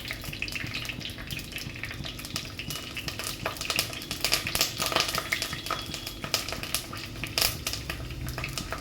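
Curry leaves crackle and sizzle in hot oil for a fish curry, a dense steady frying hiss with sharp pops and occasional stirring clinks, close and continuous without any voices.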